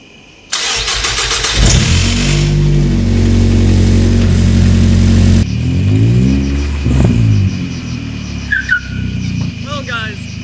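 A Nissan B15 Sentra engine cranks and catches abruptly, then runs loud and close at a steady idle before a couple of revs rise and fall, with brief chirps and a voice near the end.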